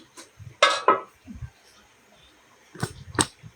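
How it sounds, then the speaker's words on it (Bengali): A metal lid set onto a cooking pot, giving two sharp clanks close by, then two more after a quiet pause, with faint low voices around them. "এখন এটা একটু ঢাকনা দিয়ে দেব, যাতে সিদ্ধ হয়ে যায়।"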